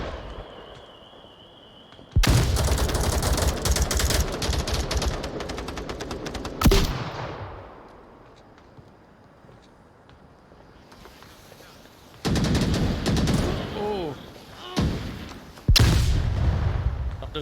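Gunfire in the VR shooter Onward during a competitive match: loud bursts of rapid automatic shots in several separate volleys, with quieter stretches and faint distant shots between them.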